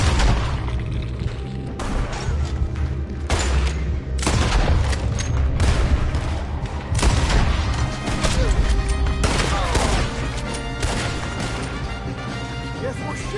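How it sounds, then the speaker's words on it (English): A loud gunfight in the video game Red Dead Redemption 2, with rapid, overlapping shots and heavy cracks and crashes packed tightly together, plus brief pauses between volleys. "Guess we're shooting then."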